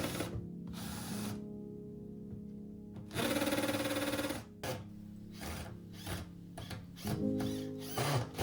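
A power drill drives screws into wood in several short bursts, revving up and stopping, with clattering handling noises between runs.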